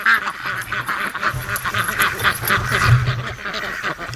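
Ducks quack repeatedly on a lake shore in the morning, a busy overlapping chorus of calls near and mid-distance, with a few honking notes mixed in.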